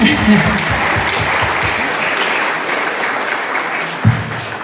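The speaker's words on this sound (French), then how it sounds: "Oui, on peut l'applaudir." Sustained audience applause at the opening ceremony of the FICAM animation film festival in Meknes, a dense steady clatter of many hands filling the hall throughout.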